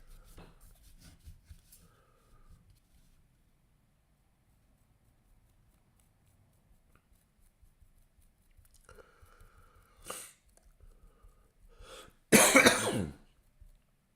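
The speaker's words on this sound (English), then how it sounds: "cough that won't quit" A persistent cough breaks out near the end: a few faint throat sounds, then a loud burst of coughing close by, after long stretches of near silence and quiet handling noises.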